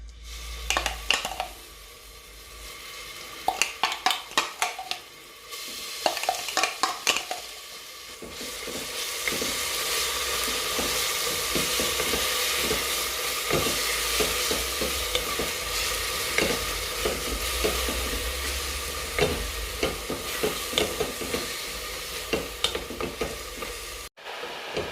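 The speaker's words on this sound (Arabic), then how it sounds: "غادي نضيف البصله باش تشحر ليا" Onion frying in hot oil in a pan, a loud steady crackling sizzle that starts after a few clattering utensil knocks and continues close and unbroken, with occasional stirring scrapes and no talk.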